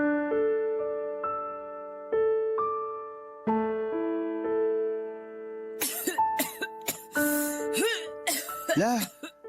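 An elderly grandmother who has been frequently ill coughs several times, with a hoarse, harsh quality, alongside music and people speaking nearby.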